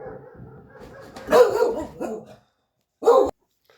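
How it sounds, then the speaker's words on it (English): A dog barks outdoors in a field of gorse and bracken on old mine waste, a few sharp close barks in a short burst followed by one more bark after a pause. "That's a dog barking at somebody."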